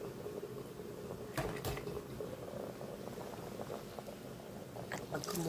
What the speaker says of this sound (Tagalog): At pag kumukulo na